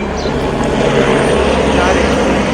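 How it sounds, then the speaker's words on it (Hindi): A helicopter's engine and rotor drone loudly and steadily in heavy rain at Vaishno Devi, a continuous close roar that fills the whole clip. "हेलीकॉप्टर बार बार आए जा रहे हैं"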